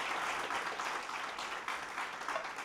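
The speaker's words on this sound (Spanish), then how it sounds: "Por eso puedes aplaudir al Señor si deseas." A church congregation claps during a Spanish-language sermon, a full, continuous wash of applause from many hands that stays fairly even throughout the short stretch.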